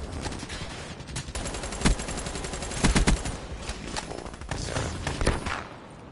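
Rapid bursts of gunfire from the Weevil gun in a multiplayer shooter game, close and loud, with clustered shots firing in quick rhythmic volleys.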